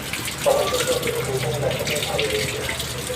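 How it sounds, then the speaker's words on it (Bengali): Water running from a tap into bottles, a steady close gushing stream throughout, with faint background sounds. "তো বোতলের জলগুলো ভরে নিই"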